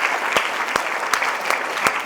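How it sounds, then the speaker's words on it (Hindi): Audience applause at a CBSE school award ceremony in Mohania, a steady wash of many hands clapping with a few sharper claps standing out, sustained and fairly close throughout. "मैम के लिए, तालियां बजाएं"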